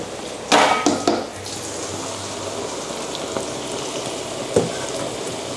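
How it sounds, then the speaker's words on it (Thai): Battered vegetables deep-frying in hot oil tempura-style, a steady crackling sizzle throughout with a few louder bursts of spattering, heard alone without talk. "จริงๆก็เหมือนผักทอดเทมปุระค่ะ"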